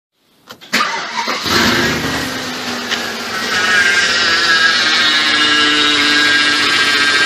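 A 2004 Audi A6 with the 4.2-liter engine cranks and starts, then settles into a steady idle with a loud, sustained whine and moan from the faulty power steering pump, close up and with no talking.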